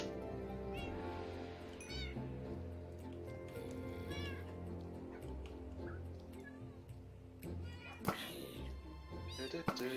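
Orange cats meowing repeatedly in the Minecraft video game, several short mews scattered across the clip over steady game music, with a voice talking in German throughout.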